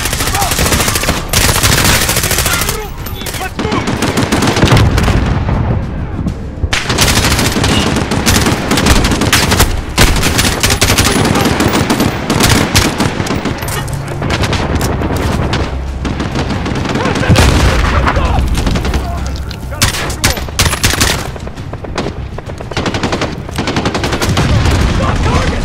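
Loud, sustained machine gun fire fills a Call of Duty: Modern Warfare (2019) combat scene, continuous rattling bursts with booms throughout, while soldiers shout under the din.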